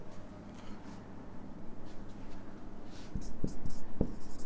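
Pen or pencil writing a line on paper, faint scratchy strokes that grow firmer and more distinct toward the end, alone with no talking.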